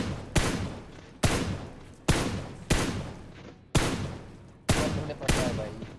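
Rapid gunfire from a house in the mobile battle royale game PUBG Mobile: six sharp, loud shots or short bursts at roughly regular intervals, each trailing into a ringing decay, with no talk over them.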